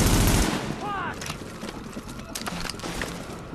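Gunfire in the video game Tom Clancy's The Division, a burst of rapid shots up close followed by scattered sharp cracks and impacts mixed with game noise, with a voice talking over it.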